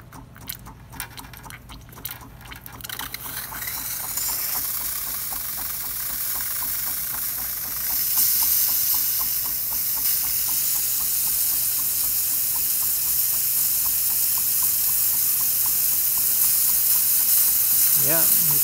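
Loud, steady steam hissing from the steam wand of a leaking Saeco Magic Comfort+ espresso machine, starting after a few seconds of clattering and continuing strongly to the end, with a low machine hum underneath.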